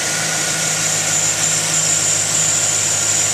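A 2007 GMC Sierra 1500 crew cab 4WD pickup idling with its hood open, a steady close engine hum with a constant hiss and no talk over it.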